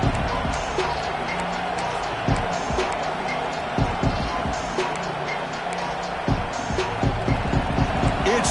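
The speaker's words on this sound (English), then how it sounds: "this crowd is fired up. Listen to this noise here." Stadium crowd noise from the College Football 25 video game, a steady dense roar of a fired-up crowd with scattered thumps and bursts of cheering, under a commentator's voice throughout.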